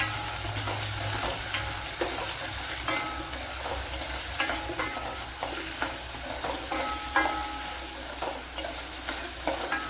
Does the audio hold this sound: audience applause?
no